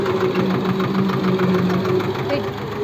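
A farm tractor engine runs nearby, a steady rumbling idle with a knocking throb and vibration, loud and continuous for the whole stretch.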